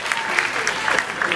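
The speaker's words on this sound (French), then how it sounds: "Applaudissez pour Moussamba et Bénédicte" A crowd at a slam poetry show in a cultural centre breaks into loud, close applause, dense clapping with a few sharper claps standing out.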